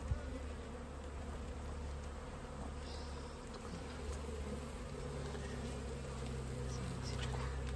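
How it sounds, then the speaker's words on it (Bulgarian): Wild honey bees swarm around transparent hives, their dense, steady buzzing droning without a break. A few louder individual bees pass near the listener. "Как да не работиш с диви пчели?"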